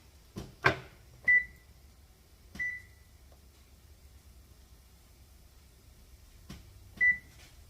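Kitchen oven set to preheat to 400, with several short electronic beeps spaced a second or more apart, clear and close among faint button presses and soft clicks in a quiet room.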